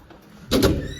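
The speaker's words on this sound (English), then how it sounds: "That door never fucking opens." A stubborn door is pushed open in an echoing indoor space, a single loud burst of rattling and scraping midway through after near-quiet.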